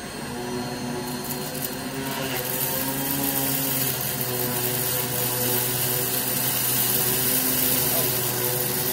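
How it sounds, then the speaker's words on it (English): Rainbow SRX vacuum cleaner running steadily at close range as it cleans a red rug scattered with light to heavy particles and fake pet hair, a continuous loud motor whine with a broad airy roar, some faint talk underneath. "let's see how this Rainbow SRX cleans on this red rug."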